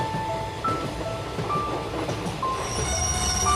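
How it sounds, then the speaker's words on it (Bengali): Cartoon train pulling into a small-town station and braking to a stop, with rumbling wheels and high metallic squeals that rise toward the end, continuous and fairly loud with no talk. "দুজনের এসব কথার মধ্যেই ট্রেন মোহনপুর স্টেশনে এসে থামে"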